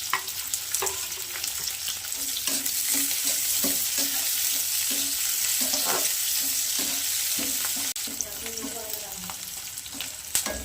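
Onion and chilli fry in hot oil in a pan for semolina manchurian, a steady loud sizzle running throughout, punctuated by repeated scraping spatula strokes.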